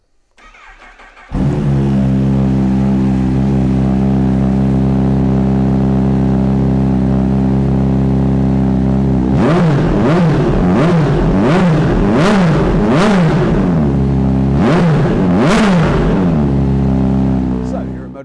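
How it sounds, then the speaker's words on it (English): A supercharged Kawasaki ZH2 SE Performance naked motorcycle fires up close by with a sharp start and settles into a loud, steady idle. It then gives several quick throttle blips in a row, each rising and falling, before dropping back to idle. "So let's fire this one up and have a listen."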